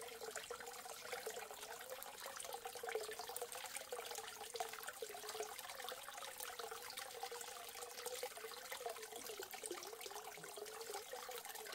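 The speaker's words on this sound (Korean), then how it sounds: "물소리는 우리의 마음을 맑게 해줍니다" Clear mountain water flows beside an old rural house in the hills, a continuous soft rushing and trickling that stays even and fairly quiet from start to end, with no voices.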